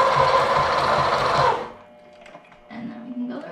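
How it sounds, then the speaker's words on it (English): A sewing machine stitches fabric in a steady, loud mechanical whir for about a second and a half, then stops, leaving quieter handling noises and faint talk. "foot of the sewing machine and then we finish sewing the rest of the way and then do the same across, back and forth"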